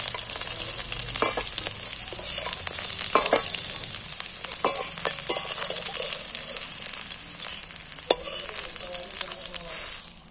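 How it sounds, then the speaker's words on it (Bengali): Okra (bhindi) frying in hot oil in a pan gives a steady, close sizzle that runs for the whole stretch, with occasional stirring clatters and crackles rising above it. No one speaks. "দেখো, ঢেঁড়সটা অনেকটাই ভাজা হয়ে গেছে।"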